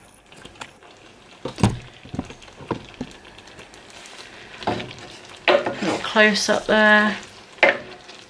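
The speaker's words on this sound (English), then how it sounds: "I'm just gonna let it cook for another minute or so with no lid on, just to try and evaporate the liquid, the sauce" Pepper and chorizo pasta sauce bubbles and sizzles in an uncovered pot, with scattered spoon taps and stirring clatters against the metal, while someone speaks briefly partway through.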